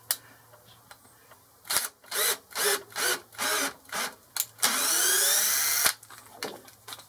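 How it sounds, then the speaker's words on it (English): Power drill bursts while an 8mm tap cuts thread into a nylon hand wheel: a series of short whirring pulses, then one longer sustained grinding run, close and fairly loud with no talking. "Now I'm using an 8mm tap."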